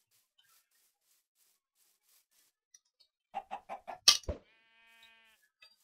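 Chicken clucking in Minecraft, a quick series of about five short clucks followed by a sharper squawk, close and clear against near silence.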